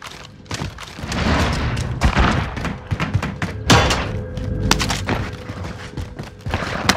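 Warzone combat with a grenade going off amid gunfire: heavy thuds and booms mixed with rapid sharp shots in irregular bursts, loud and close, one big blast partway through.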